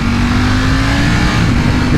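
A 2020 Ducati Panigale V4S motorcycle engine revs loud and close, a raw, dense roar with a steady droning tone held throughout, no voices.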